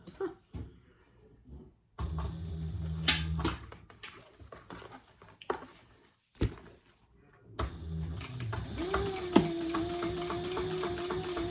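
A sewing machine running two rows of top stitching, bursts of rapid mechanical whirring separated by pauses and clicks as the fabric is repositioned, close by.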